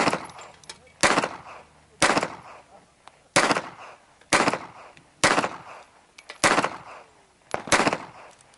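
Eight loud, sharp pistol shots from a DWM LP08 Artillery Luger fired at a steady pace about one second apart, each crack followed by a short fading echo and no voices in between.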